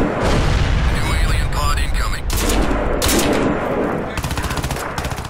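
Rapid automatic gunfire and heavy bursts fill a Crysis 3 multiplayer match, loud and continuous with whooshing and booming effects, under a player talking during play.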